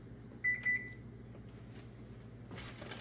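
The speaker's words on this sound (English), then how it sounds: "Turn off the oven." A kitchen oven gives two short electronic beeps close by as it is switched off after roasting lemon pepper chicken, then a low steady hum continues with a soft clatter near the end.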